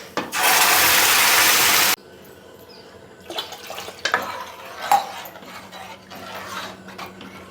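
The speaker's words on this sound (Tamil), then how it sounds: "இப்போ தாளிச்சிட்டு போட்டுற வேண்டியதான்." Spices tempering in hot oil for a brinjal sambar pan give a loud, harsh sizzling burst lasting about one and a half seconds, then fade into softer kitchen clatter and scattered small knocks, with no talking.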